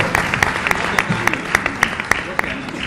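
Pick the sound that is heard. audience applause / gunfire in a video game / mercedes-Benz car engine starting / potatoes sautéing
audience applause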